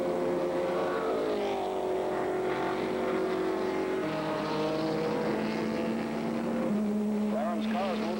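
Race cars at the 1964 Nassau Trophy race, engines droning steadily with shifting pitch as they pass, a commentator talking over them throughout.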